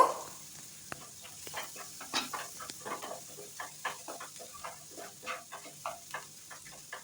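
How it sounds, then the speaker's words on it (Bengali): Moong dal kachori filling with salt, turmeric and sugar is sautéed over low heat, a faint soft sizzle under repeated gentle scrapes and taps of a spatula in the pan, fairly quiet and close. "কিছুক্ষণ কষিয়ে নেব।"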